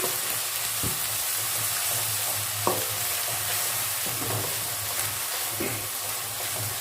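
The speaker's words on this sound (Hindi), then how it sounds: "इसे भी मैं अच्छी तरह से प्याज के साथ भून लूँगी।" Ginger garlic paste and onions sizzle steadily in a hot pan with occasional scraping stirs, close and continuous, with no talking.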